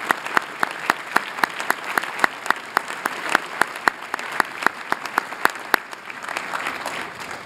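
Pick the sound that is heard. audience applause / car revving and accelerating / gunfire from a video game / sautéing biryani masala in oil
audience applause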